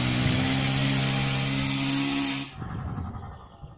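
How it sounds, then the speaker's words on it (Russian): A loud, steady chainsaw drone runs close by while a pine tree is felled in a forest, then cuts off abruptly, leaving quieter outdoor background. "Вот и источник звука бензопилы. Валят сосну."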